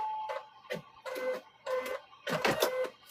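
An embroidery machine works a satin stitch in short, separate bursts of rapid mechanical chatter split by brief pauses, the final burst louder and busier than the others.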